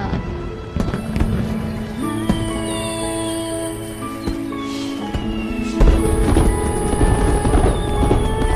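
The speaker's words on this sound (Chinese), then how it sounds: "好漂亮，居然有烟花。" Fireworks burst in a series of sharp pops and booms of varying loudness against a steady background hum, with a few whistling rises between the blasts.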